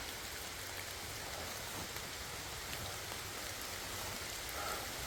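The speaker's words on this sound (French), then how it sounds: "comme vous l'entendez, voilà, ça commence à pleuvoir fort" Heavy rain falls steadily in a forest, a dense, even hiss of drops on leaves and ground with no pauses, close and enveloping.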